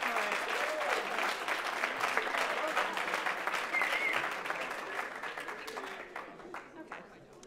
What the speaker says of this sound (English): Yes, clap for it.